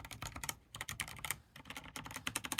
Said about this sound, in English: the keyboards really don't sound that bad like stock